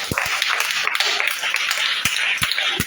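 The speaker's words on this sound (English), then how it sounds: "A round of applause for that" Applause from a gathering at a school event for donated book bags, a dense steady clapping close up with a few sharp louder claps standing out, no talk over it.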